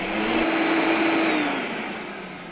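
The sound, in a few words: Kiam 1500 watt blender mixing water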